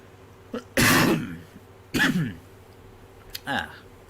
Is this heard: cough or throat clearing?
yes